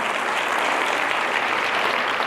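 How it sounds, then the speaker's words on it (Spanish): A church congregation bursts into applause, a thick, even wash of many hands clapping together, sustained and moderately loud for about two seconds with no break. "Dale un aplauso al Señor."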